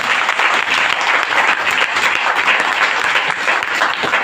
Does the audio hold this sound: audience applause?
yes